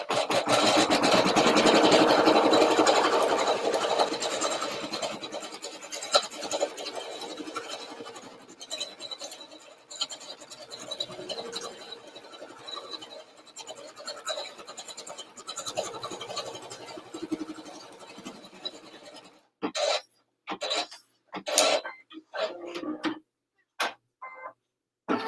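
A machine embroidery run stitching the placement outline for a bunny's head piece: a steady, rapid mechanical ticking and whirring hum holds for about twenty seconds, then breaks into short separate bursts near the end.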